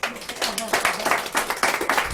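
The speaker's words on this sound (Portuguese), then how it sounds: "Uma salva de palmas para ela." Church audience breaks into applause, quick rhythmic clapping from many hands, fairly close and loud, with voices mixed in over it.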